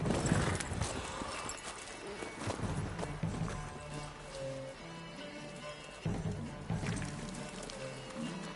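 Rhythmic clip-clop of horse hooves trotting in a video game on Death March difficulty, layered with music and game sound effects, the hoofbeats steady throughout.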